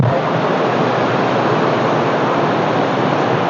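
A river rushes in a steady, loud broadband roar of flowing water, unbroken and close.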